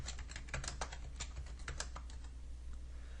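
Quick, light clicking of fingers typing on a computer keyboard, a close and fairly quiet burst of keystrokes in uneven rhythm that trails off near the end.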